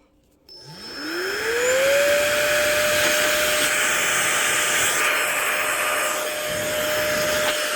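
An electric air blower from an RC radio unboxing switches on and spins up, its whine rising to a steady tone over a continuous loud rush of air that runs alone without pause.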